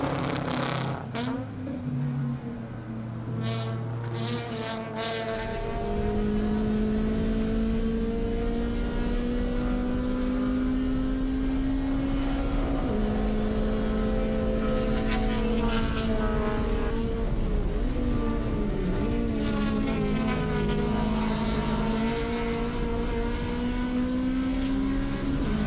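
A race car on a time attack circuit at New Jersey Motorsports Park, its engine rising and falling through gear changes, braking into a bowl and accelerating hard again, loud and continuous throughout.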